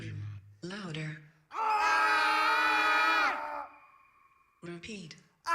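Several voices in a performance setting let out a loud, sustained scream-like cry lasting nearly two seconds, preceded and followed by shorter vocal bursts, with a lingering tone trailing after the main outcry.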